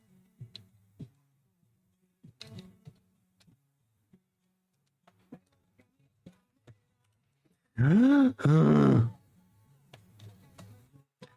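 A man lets out a frustrated groan in two loud, strained bursts near the end, while working on a Compaq Presario CQ56 laptop, amid sparse faint clicks and tapping in an otherwise quiet room.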